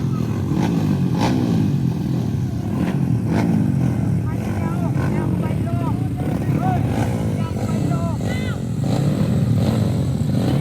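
Motocross motorcycles rev and whine continuously on a dirt circuit, buzzing loudly with rising and falling pitch as bikes race past, under a steady roar of crowd noise.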